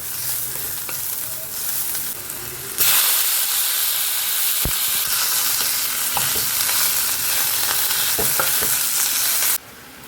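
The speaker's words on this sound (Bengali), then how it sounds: "তাই শুধু এই পেঁয়াজটা একটু ভাজবো, ভেজেই আর মাংসটা দিয়ে দেবো" Onion fries in a pan, a loud close sizzle that bursts up suddenly and holds steady for several seconds, with a few sharp clicks of stirring, then drops back to a quieter hiss.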